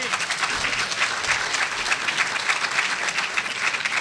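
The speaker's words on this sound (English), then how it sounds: "How about a big round of applause for our speaker?" A city club audience bursts into sustained applause for a speaker after a speech, a dense, even wash of many clapping hands, fairly loud and continuous throughout.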